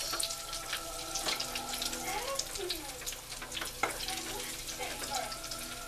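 Chicken tenders fry in hot oil with a continuous close crackling sizzle, scattered pops and small splashes, with some background voices.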